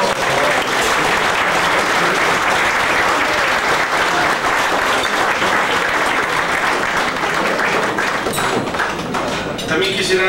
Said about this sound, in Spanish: quisiera brindar un aplauso que sea con ustedes